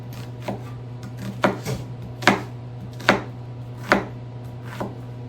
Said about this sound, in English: There's a few methods to dicing onions